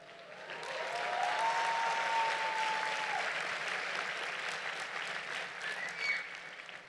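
Sustained applause at a Babson College 2024 graduate commencement ceremony, a broad steady wash of clapping from a large crowd, even and continuous for several seconds without speech.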